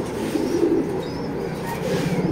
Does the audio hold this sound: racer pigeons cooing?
yes